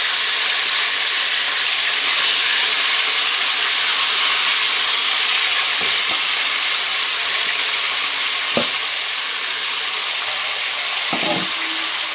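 Chicken fries in about 300 grams of hot oil in a karahi, giving a loud, dense, continuous sizzle with occasional soft stirring knocks beneath the steady hiss.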